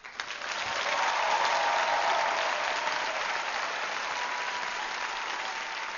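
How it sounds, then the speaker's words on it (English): An audience at a poetry performance night breaks into sustained applause, a dense wash of clapping that rises quickly and holds steady at a moderate level for several seconds. "give a warm round of applause"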